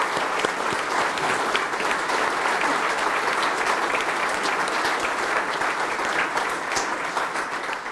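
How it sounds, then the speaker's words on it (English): Steady, dense audience applause at a district court Law Day event honoring police officers' families, sustained and loud throughout with no break, a large crowd clapping together. "So please, a round of applause for the families of the police officers"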